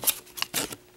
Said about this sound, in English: I'm using these scissors.